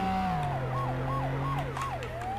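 A police siren in the video game Flashing Lights wails with a rising and falling yelp pattern over a steady engine drone, clear and close.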